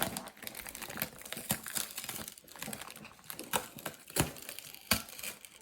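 Bubble wrap packaging crinkles and rustles close up as it is pulled out of a box, a steady run of soft crackles and crumpling with faint taps.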